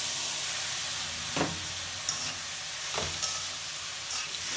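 Bitter gourd slices frying with thinned mustard paste in a pan, a constant hissing sizzle close by, punctuated by three or four brief scraping stirs of a spatula.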